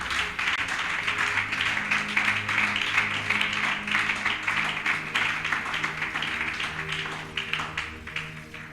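A church congregation applauds together in a long, sustained burst of many clapping hands that stays full and even for nearly nine seconds, with a low steady tone running beneath.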